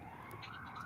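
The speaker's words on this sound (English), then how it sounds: "I got a lot of sirens going on right here" Several emergency vehicle sirens wail steadily in the distance, with a rising, sweeping tone over a constant background rumble, no voices on top.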